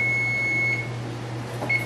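A kitchen timer beeps while rutabaga is being canned, giving a long steady high tone that stops and then sounds briefly again over a low continuous hum.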